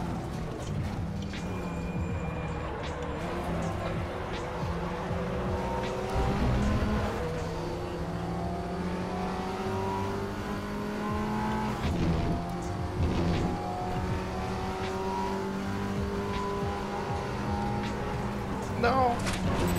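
Race cars in the RaceRoom sim racing game battling wheel to wheel: engines rev and change pitch continuously, with passing whooshes and brief tyre squeal, while a voice talks over the racing throughout.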